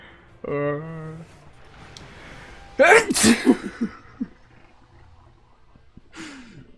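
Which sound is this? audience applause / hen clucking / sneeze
sneeze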